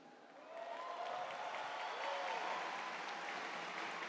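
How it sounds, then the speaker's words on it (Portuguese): A church audience at a Canção Nova gathering claps in a soft, continuous patter that swells after a moment and holds steady, sounding fairly distant. "você está aplaudindo, mas pode aplaudir, pode aplaudir"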